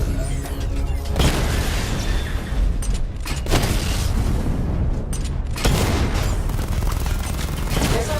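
Missile barrage explosions destroying targets in the video game Batman: Arkham Knight, loud booms and rumbling blasts rolling almost without pause, with several sharp impact bursts standing out in the roar.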